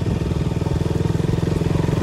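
Motorcycle engine running at a steady pace during a ride, a loud close rhythmic thrumming with fast regular pulses and no break.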